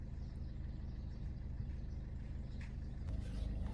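Steady low engine and road rumble from inside a moving car, continuous and fairly quiet, with a brief rustle toward the end and no clear talk.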